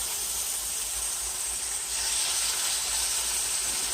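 Steady, even sizzling hiss of scamp grouper fish frying in a hot pan, a continuous close wash of sound that swells slightly partway through.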